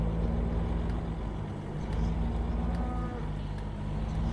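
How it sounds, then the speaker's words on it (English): Cattle low at a livestock facility in the Farming Simulator 15 video game, their mooing blended into a steady droning rumble like idling machinery. "Looks like it's mostly cattle here, not pigs."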